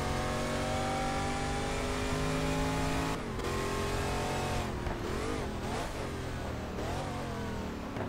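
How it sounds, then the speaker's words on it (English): A De Tomaso Pantera race car in the GT Legends racing game roars at sustained high revs, its engine note climbing and dropping sharply through gear changes, loud and steady with no voices. "even with engine saving modes, our car is going very fast at the end of the race"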